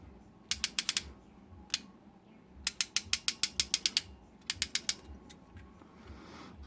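Several bursts of sharp, rapid ratcheting clicks from the knee joints of a Takara MP-10 toy robot, close and crisp, separated by short pauses. No voices are heard.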